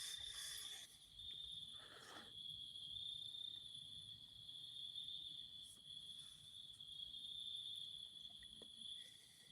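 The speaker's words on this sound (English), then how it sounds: "Fucking crickets are still out like crazy." Crickets chirp at night in a steady, faint, high-pitched drone of continuous trilling, a quiet outdoor backdrop with no voices.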